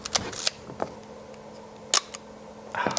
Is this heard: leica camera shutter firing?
yes